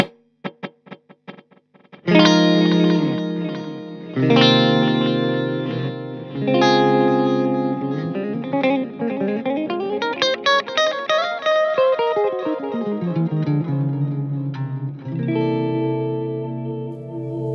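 Distorted electric guitar phrases through a Mooer Ocean Machine dual delay pedal, set near 600 and 400 milliseconds, ring out with layered repeating echoes trailing each note, building into a dense, swirling wash of delayed repeats.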